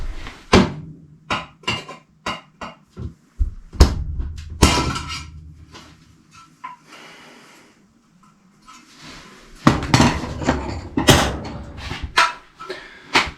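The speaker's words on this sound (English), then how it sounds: "just punched it with a screwdriver" A screwdriver is struck hard to punch a knockout from a metal electrical box during a dryer vent install, giving sharp metallic bangs and clatters in irregular bursts, close and loud, with a quieter scraping stretch midway.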